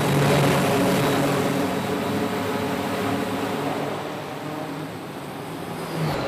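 A steady, loud drone of a Grumman C-2 Greyhound twin-engine propeller cargo plane, a low throbbing hum holding constant throughout with slight swells and no voices.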